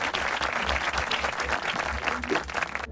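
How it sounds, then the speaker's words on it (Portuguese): Canned applause sound effect triggered by a podcast host, a steady burst of recorded clapping and light cheering running for about three seconds at moderate level with no voices over it. "Cadê as palmas? Achei as palmas. Aqui as palmas, não?"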